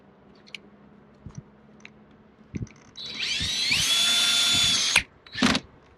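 Power drill driving screws into the aluminum of a new Beacon RV awning during repair, a couple of seconds of high whirring after scattered clicks and handling knocks.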